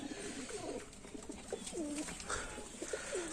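Several domestic pigeons coo repeatedly in soft, rolling calls while feeding, over a low background hum.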